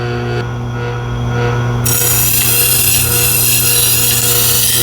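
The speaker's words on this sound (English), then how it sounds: "So we'll turn our Tormek on." A Tormek T8 sharpener turns a CBN 600 grit wheel to hone a razor edge. Its steady motor hum runs throughout, and a brighter, continuous grinding hiss joins in about halfway as the blade meets the wheel.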